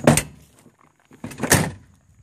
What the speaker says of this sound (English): I could close that door.